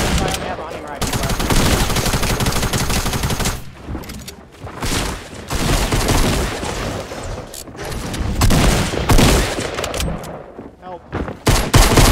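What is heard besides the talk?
hunting rifle gunfire in the video game Fortnite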